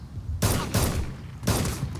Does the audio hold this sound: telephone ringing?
no